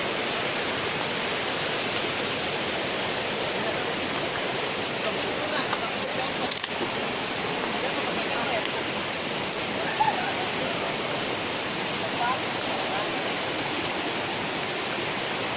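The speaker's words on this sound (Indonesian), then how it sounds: "Di sana ada sungai." A river flows near Curug Cilalay waterfall in Karawang, a steady broadband rush of moving water that stays constant and fairly close throughout, with no talk over it.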